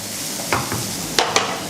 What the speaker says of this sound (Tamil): கடைசியாக டொமேட்டோவும் கேப்சிகமும் போட்டுக்கலாம்.